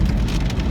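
Rain while driving in wet weather: a brief, dense, loud patter of rain drumming on a car, steady and close.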